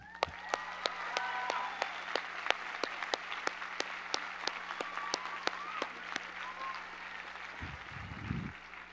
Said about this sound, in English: So please join me in giving the clap to your parents